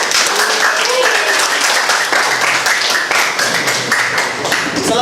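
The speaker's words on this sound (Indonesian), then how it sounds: "Beri tepuk tangan untuk kelompok Ferry" Classroom applause for a student group, steady dense clapping from the whole class lasting throughout, with voices chattering and calling out over it.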